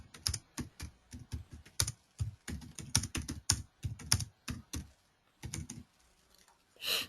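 Fingers type on a computer keyboard in a quiet room, giving close, crisp, irregular bursts of keystrokes with short pauses between words.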